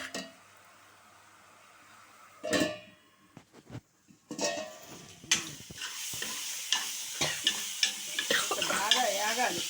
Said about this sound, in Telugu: ఇంకా కొంచెం పచ్చి వాసన పోయిన దాకా వేగాలి నూనెలో